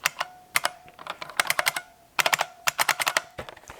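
Keys on a heavy tactile mechanical keyboard are struck in quick, uneven bursts of loud, sharp clicks with brief pauses between flurries, close up and with no talking.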